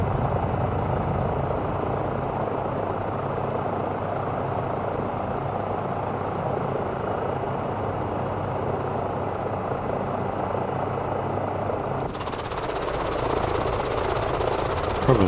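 An EC-135 helicopter in flight in Microsoft Flight Simulator 2024, its rotor and turbine making a steady, loud, unbroken drone that holds for the whole stretch, with a brighter high whine coming in near the end.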